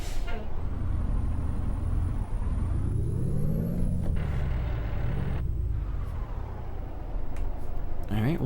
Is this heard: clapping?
no